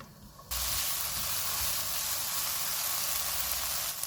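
Onion, green chilies and tomato dropped into melted butter on a medium flame set off a sudden, steady, close sizzle that hisses evenly without pause.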